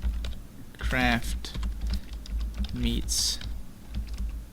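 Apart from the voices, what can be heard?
typing on a computer keyboard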